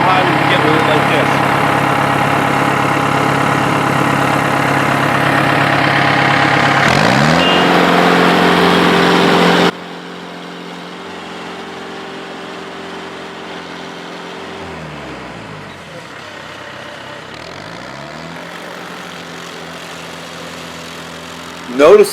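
A stump grinder's engine drones loudly and steadily as its cutter wheel works a tree stump, then drops to a lower, quieter hum with slow sweeping pitch changes as the machine is repositioned.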